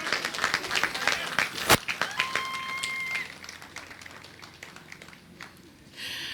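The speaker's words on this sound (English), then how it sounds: "let's give them another round of applause" Veterans Day ceremony audience clapping, a dense spread of claps over the first few seconds that thins and fades, with murmuring crowd and a brief sharp knock near the start.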